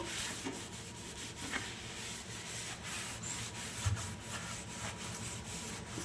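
A steel sink is scrubbed by hand with a cleaner made from two household items, giving a steady close rubbing and scouring rasp with rhythmic strokes throughout, fairly faint and without talk.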